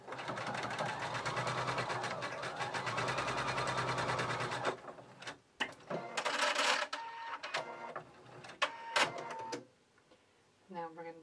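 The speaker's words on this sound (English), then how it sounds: "I'm just going to go ahead and sew those together." Sewing machine stitching cardigan seams together, a fast steady mechanical whir running for about five seconds, then stopping, followed by short handling and rustling noises of fabric being moved.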